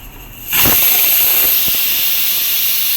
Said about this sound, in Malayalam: കുക്കറിൽ നമുക്ക് ഇനിയിപ്പോൾ വിസിൽ കേൾക്കാറായിട്ടുണ്ട് കേട്ടോ